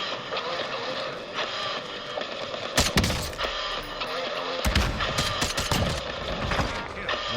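Gunfire in a Warzone match, with scattered loud shots and rapid bursts cracking over a busy, noisy game background, the sharpest volleys landing in the middle of the stretch.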